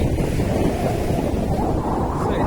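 Strong wind and ocean surf at a Maldives beach hotel, a loud continuous rumbling wash with heavy wind buffeting the microphone throughout.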